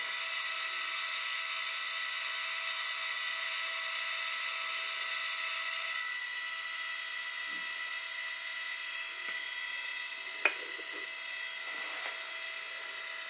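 A steady high-pitched mechanical whine of an HP Sprocket mobile photo printer running continuously, with a faint click partway through, close and constant.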